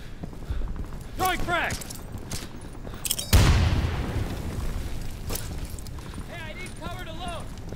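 A grenade blast in Insurgency (2014), one loud, sudden explosion with a deep booming low end that fades over a couple of seconds. Players talk before and after it.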